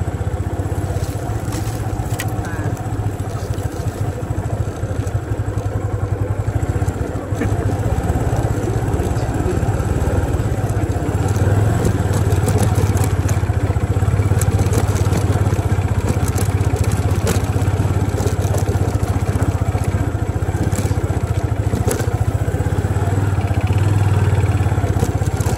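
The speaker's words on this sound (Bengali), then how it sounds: "তো এখন বাইকে যাচ্ছি এই রাস্তা দিয়ে" Motorbike riding along a hill road from Jhandi to Dovan, its engine droning steadily and loudly throughout with wind rush and occasional rattles, no break in the noise.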